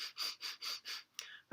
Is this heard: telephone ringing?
no